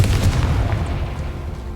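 Confringo spell explosion in the Hogwarts Legacy video game, a loud deep boom that rolls on as a continuous low rumble throughout, with no talk over it.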